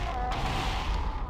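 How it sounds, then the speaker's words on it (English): A dense rumble of overlapping explosions and booms in Halo: Combat Evolved Anniversary fills the whole moment, heavy and continuous with no pauses. "Oh, that's a lot of explosions."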